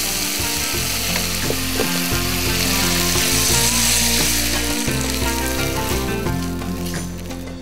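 Chicken sizzles and fries loudly in a pan for noodle balls, a dense continuous crackle with some scraping and clattering under it and no talk.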